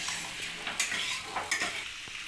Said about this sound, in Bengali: চিকেন মশলাটা দিয়েও ভালো করে কষিয়ে নেব আমি।